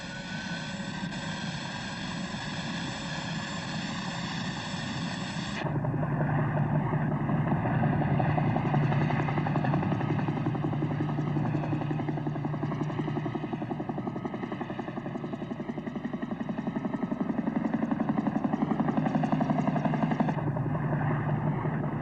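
Steady, continuous thrum of a helicopter's engine and rotor from inside the cabin, loud and unbroken, with a slight shift in tone partway through, flying toward Hudson Bay.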